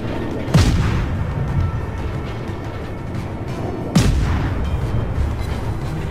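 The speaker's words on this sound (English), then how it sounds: "with the gun arrangement and the twin mount on the Clemson, you're able to keep up a very steady rate of fire, continuously scoring hits" Twin-mount guns of a Clemson destroyer fire high-explosive shells in World of Warships, two loud booming salvos about three and a half seconds apart over a steady low rumble.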